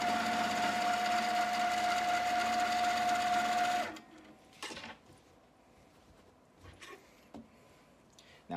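A mid-arm quilting machine stitches with a loud, steady whirring hum for about four seconds, then stops, followed by soft handling clicks and rustles of the quilt.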